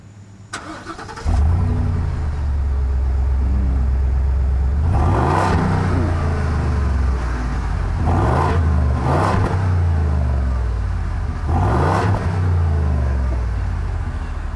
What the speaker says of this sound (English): that is a mean-sounding V8